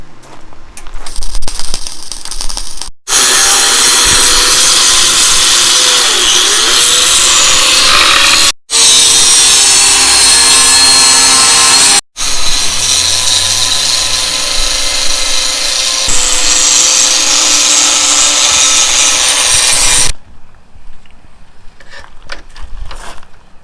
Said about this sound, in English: Grind it down